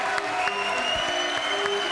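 Studio audience applause on a French television talk show, a continuous wash of clapping from a crowd, mixed with a steady tonal music bed underneath throughout.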